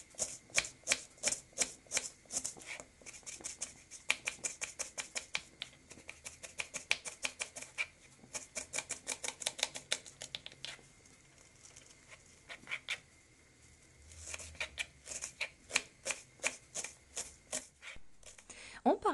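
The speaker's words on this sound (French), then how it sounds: "j'ai pris un oignon, je l'avais épluché, je le coupe finement" A knife chops finely through a peeled onion on a board, with rapid, steady clicking strokes in dense bursts, a brief pause near the middle and the rhythm resuming strongly toward the end.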